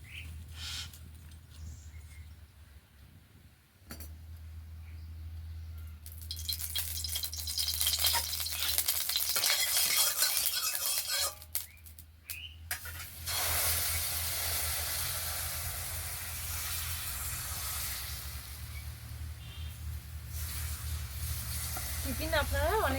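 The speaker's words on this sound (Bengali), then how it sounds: "এইভাবে বাকিগুলো ভেজে নেব।" Gram flour (besan) snacks fry in a pan with a steady, close sizzle that swells and then holds at an even level over a low background hum.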